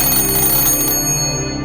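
A bell rings continuously in a rapid, bright metallic trill, steady and fairly loud throughout with no voices over it.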